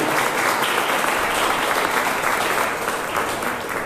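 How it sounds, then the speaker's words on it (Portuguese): A church congregation at a Holy Communion service claps loudly and continuously, a thick unbroken wash of applause that eases off only slightly toward the end. "uma linda salva de palmas"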